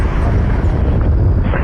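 Air Canada heavy airliner at Toronto Pearson airport, a loud, steady broadband engine roar with low rumble, sustained throughout as if passing close by.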